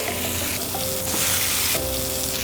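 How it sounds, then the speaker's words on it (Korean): Tomahawk steak fat sears in a hot pan with a loud, steady, crackling sizzle that runs unbroken and close throughout, with no voices. "밑에 펫 부분은 기름 부분 한번 이렇게 태워줄게요"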